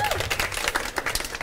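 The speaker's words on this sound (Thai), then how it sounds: "งั้นขอเสียงปรบมือให้กับตัวเองก่อนครับ" Brief burst of applause from pageant contestants at a Thai swimsuit competition, a dense patter of hand claps, fairly close, with a voice speaking over it.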